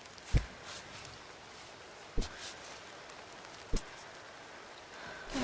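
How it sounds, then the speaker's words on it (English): Rain in the video game Cairn, a steady soft hiss of falling drops, with three sharp, brief thuds spaced about a second and a half apart and no talking. "Am I getting rain now?"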